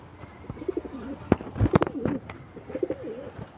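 Domestic pigeons coo repeatedly in soft, wavering low calls close by, with a few sharp flapping or tapping sounds scattered among them.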